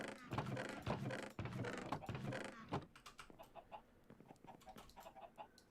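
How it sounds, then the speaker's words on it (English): Chickens cluck in a Minecraft survival game, a busy burst of overlapping clucks that thins into scattered quieter clucks, faint overall. "why are there so many chicken noises?"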